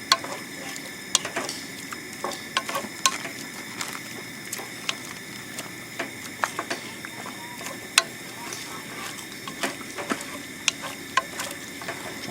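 Meat is stirred with water in a pan, producing continuous scraping and clinking of a utensil against the pan with irregular sharp taps over a low simmering hiss.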